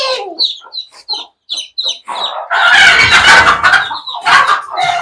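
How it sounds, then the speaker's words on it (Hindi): A desi hen clucks softly beside her chicks in a rhythmic series of short calls, then a louder, harsher burst of fowl squawking breaks in close by. "ये सारे बच्चे की जो माँ है व्हाइट मुर्गी उसको हम बाहर निकालेंगे।"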